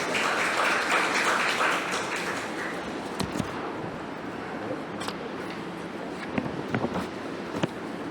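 A big round of applause from the audience welcomes the Vice Chairman to the lectern at an academic valedictory event, dense clapping at first that thins out and fades into scattered claps and room noise.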